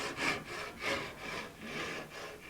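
A handsaw rips along wood for an ES-335-style guitar build, in four or five rough, rasping strokes, each one a rising then falling scrape, close and moderately loud with no voices.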